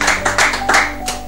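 A congregation at a French-language prayer gathering claps hands to acclaim the Lord, several sharp, uneven bursts of clapping heard close and fairly loud over a steady background hum.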